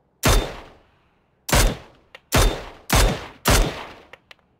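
Five loud, close gunshots from the video game PUBG played on PC ring out at uneven intervals, each with a sharp crack and a decaying tail, followed by faint clicks.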